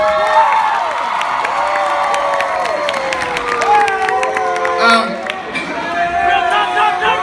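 Live concert crowd cheering, whooping and clapping in a large hall at a Hmong music show, a loud continuous roar of many voices with applause running throughout.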